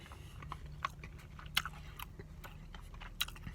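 Quiet, close chewing of a Chipotle guacamole burrito bowl with beef and gristle, with soft crunching bites and mouth sounds scattered over low background hum. No one speaks.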